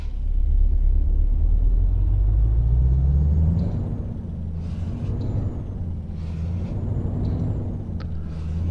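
A truck engine in Euro Truck Simulator 2 pulls away with a deep, loud rumble, its pitch climbing then settling, with faint hissing clicks over the steady drone.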